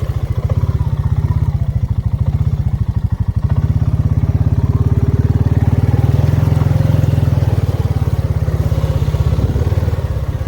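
A Honda off-road vehicle ploughs through deep muddy water, its engine chugging loudly and rhythmically close by, with throttle surges and splashing churn throughout.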